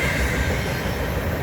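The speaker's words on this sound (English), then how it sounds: "There goes the end of a Southbound Manifest train." The end of a southbound manifest freight train rolls past close by, a steady loud rumble and rattle of freight cars on the rails with faint wheel squeal, no talking.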